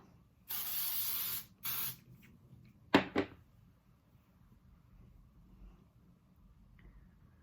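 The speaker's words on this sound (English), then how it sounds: "almost forgot to spray." Two quick bursts of hairspray hiss, one long and one short, followed by a soft clack and quiet room sounds.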